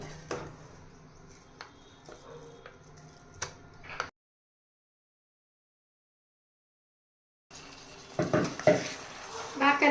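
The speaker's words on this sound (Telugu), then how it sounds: "గరిటి పెట్టి ఇలా కలుపుతూ ఉండాలి" A ladle stirs a thick mixture of melted jaggery and ground chana dal in a pot, giving scraping and clinking taps with faint sizzling, broken by a silent gap before louder stirring resumes.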